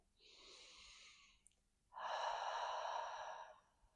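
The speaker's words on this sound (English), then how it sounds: "Taking a deep breath." A deep breath during yoga relaxation: a softer airy inhale, a brief pause, then a longer, louder exhale, close and alone in a quiet room.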